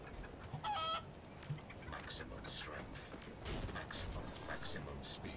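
Chickens cluck faintly in Crysis Remastered, a first-person shooter, with short bird calls scattered over game ambience and mechanical noises while a player talks quietly.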